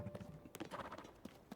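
Faint clip-clop of horse hooves in the video game Zelda: Tears of the Kingdom, a soft, uneven series of hoof knocks heard quietly in the background.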